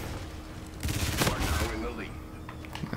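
Hipfire gunfire in the video game Call of Duty: Infinite Warfare, a dense rattling burst of rapid shots mixed with other game noises, loud and up front.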